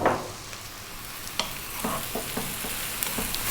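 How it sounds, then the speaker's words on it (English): Cold cooked rice fries with vegetables and mushrooms in a hot pan, a soft continuous sizzle broken by scraping and stirring strokes, close up with no talking. "This is fried rice, not rice salad. So actually fry it."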